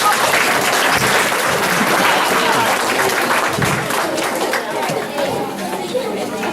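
An indoor audience at a picnic event gives a round of applause for a finalist, steady loud clapping from a crowd mixed with chatter and cheering voices.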